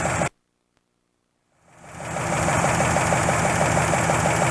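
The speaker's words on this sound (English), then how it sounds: "Engine runs pretty decent." A 1954 Ford Crestline Victoria engine starts up after a brief silence and settles into a steady, loud, even idle with a slight knocking rhythm, heard close and alone.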